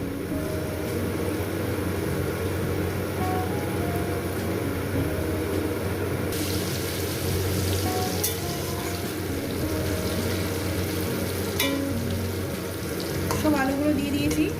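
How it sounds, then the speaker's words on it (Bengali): Potatoes frying in oil seasoned with salt and turmeric make a continuous, moderately loud sizzle, with a few brighter clinks and rattles near the end. "আমি আলুগুলোকে প্রথমে লাল লাল করে ভেজে নেবো"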